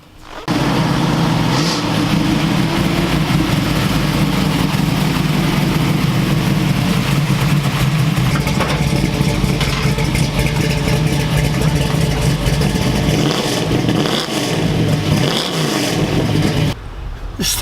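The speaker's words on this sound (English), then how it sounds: "This car really, really sounds strong." A 1970 Dodge Challenger's engine idles with a deep rumble, then revs repeatedly in strong surges, loud and close from start to finish.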